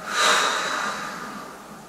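One deep, breathy exhale at close range during apnea breathing preparation at home, rushing out strongly and trailing off slowly into quiet.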